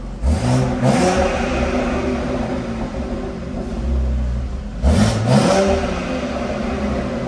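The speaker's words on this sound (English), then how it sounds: "I'm gonna show you guys a few pulls of what it sounds like in comfort mode" BMW X3M with downpipes revved in comfort mode, two pairs of quick rising engine pulls separated by a rumbling idle, loud and close.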